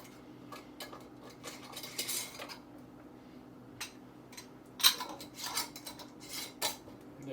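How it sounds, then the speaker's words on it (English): Lids going onto glass jars of homemade elderberry syrup: a scattered series of light clinks, taps and twisting clicks, close and fairly quiet, with no talking. "Just add some lids."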